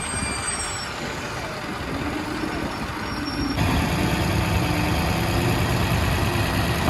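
Diesel engines of a crane and trailer idle steadily while a fishing boat is loaded at Porbandar, giving a continuous close rumble with mechanical hum that grows slightly louder partway through.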